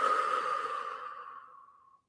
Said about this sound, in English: take a deep breath in through your nose and a longer exhale through your mouth